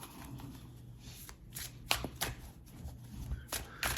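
Tarot cards being shuffled by hand, close and quiet, a run of soft riffling bursts and crisp card slaps in an uneven rhythm against a faint room hum.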